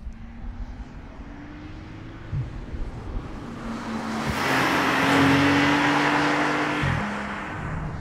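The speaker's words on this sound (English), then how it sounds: "Let us put the new 911 Turbo through its paces out here on the Hockenheim Ring racetrack" A 2021 Porsche 911 Turbo (992, 580 hp) drives on the wet Hockenheim Ring racetrack, engine droning with shifting pitch and swelling into a broad rushing roar as it sweeps past, then easing off. No voices.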